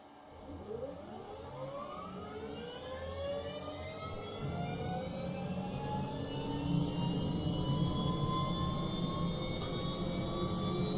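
A helicopter turbine engine starts up with a steadily rising whine and climbing tones, while the main rotor spins up over a deep, growing rumble. The sound is loud and continuous, heard alone without talk.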